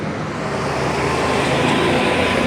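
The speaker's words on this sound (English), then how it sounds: "I'm at the street light. Cars are coming." Steady road traffic at a street light, cars passing in a continuous broadband wash that stays loud and even throughout with no single vehicle standing out.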